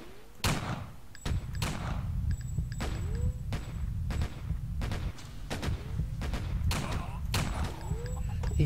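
Sniper rifle shots in a video game, a series of sharp, loud booming reports at irregular intervals over a continuous low rumble, with faint speech.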